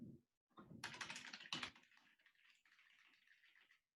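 Quiet keystrokes tap on a computer keyboard in a brief run of close clicks, with a short pause before a faint, steadier patter that fades out.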